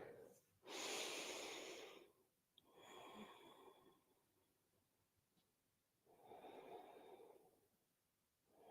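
Three deep yoga breaths, each a loud, airy inhale or exhale close to the microphone, spaced by quiet pauses.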